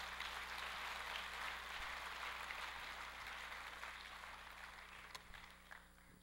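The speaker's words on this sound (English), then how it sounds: "One more round of applause for all those that helped to make this happen tonight." Sustained applause from a banquet hall crowd at a scholar-athlete awards dinner, a steady dense wash of many hands that slowly eases off, with a faint low hum underneath.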